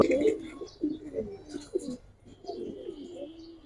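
Fancy pigeons coo in soft, low, repeated throaty bursts, close by and fairly faint, with no voices over them.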